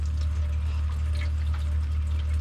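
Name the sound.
well water running through a filter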